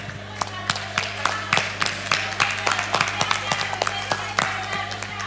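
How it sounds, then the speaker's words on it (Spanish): An audience at a conference summit breaks into applause, with scattered sharp claps rising and falling over a steady low hum and some voices underneath. "Un aplauso para todas, por favor."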